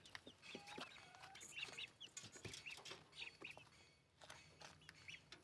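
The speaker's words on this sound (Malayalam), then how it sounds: "പിന്നെ കോഴികളും." Chickens cluck faintly alongside ducks in a small backyard poultry pen, soft scattered clucks and clicks at a distance with steady low background noise.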